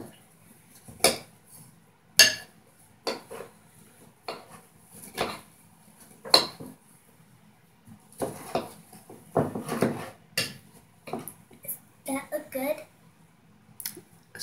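Squirrel food is being stirred into a dough in a bowl, with irregular clinks, scrapes and knocks of a utensil against the dish, mostly under talking voices including a child's.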